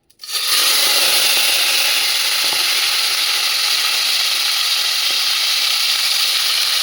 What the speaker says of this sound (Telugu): 3 సార్లు కడిగి మళ్ళీ కడిగి మనం ఫస్ట్ రొయ్యలు వేస్తున్నామండి